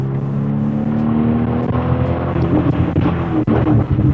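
A Porsche 911 993 GTR 3.8 restomod burbles from its exhaust while driving, a steady low engine drone with irregular crackles and pops building toward the end, close and loud.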